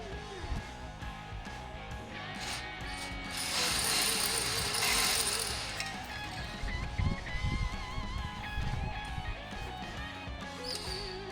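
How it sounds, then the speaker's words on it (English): A ratchet socket wrench works on the wheel nuts of an Audi TT quattro, clicking in repeated bursts with some metallic clatter and handling noise close by. "I got these special sockets for taking off wheel nuts with a Teflon thingy that won't scratch the wheel"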